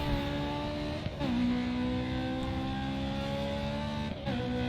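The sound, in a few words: race car engine revving in video game Grid 2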